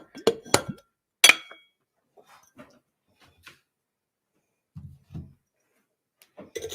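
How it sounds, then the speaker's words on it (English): A cocktail glass being rimmed for a drink, with a few sharp glassy clinks and taps near the start followed by sparse faint knocks and soft handling noises in a quiet room. "I'm gonna do the rim, only I'm not gonna chill the glass this time"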